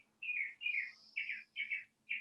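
A bird repeats a short, bright chirping phrase about five times in a steady rhythm with brief gaps, each note clear and close, over a faint low hum and no talking.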